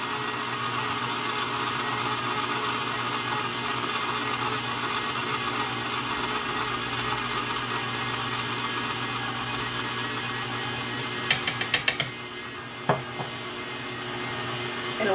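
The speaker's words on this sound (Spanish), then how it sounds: "Vamos a seguir batiendo hasta que tengamos una masa manejable." An electric mixer beats bread dough for ham and mozzarella stuffed bread, with cream and butter mixed in. It gives a steady, loud whirring drone throughout, and a few faint clinks come near the end.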